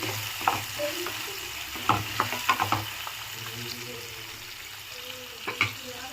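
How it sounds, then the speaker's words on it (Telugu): Chopped onions frying in a pan for tomato bath, a soft sizzle underneath with scattered clicks and scrapes of stirring up close, no voices. "ఒక 2 సెకండ్స్ ఆనియన్ బాగా వేగాలి, పచ్చివాసన పోయేంత వరకు"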